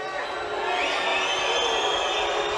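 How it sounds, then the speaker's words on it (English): A large arena crowd at the Korea–Hungary men's team sabre final of the 2019 Fencing World Championships in Budapest roars and jeers in a sustained wash of noise, with whistle-like tones rising above it. "The crowd's booing"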